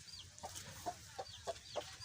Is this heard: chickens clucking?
yes